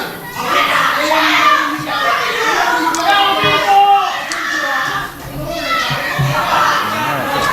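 Spectators at a wrestling event cheer and shout in a loud, continuous crowd roar, with excited voices rising and falling close by.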